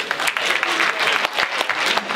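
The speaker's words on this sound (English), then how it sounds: "Round of applause." A boxing event crowd applauds with sharp, dense clapping that rises and falls briefly, loud and close.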